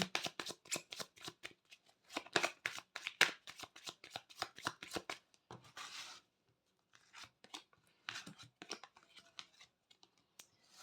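Tarot cards being shuffled by hand before a three-card draw: close, crisp rapid riffling flutters in quick bursts, briefly pausing before the shuffling resumes.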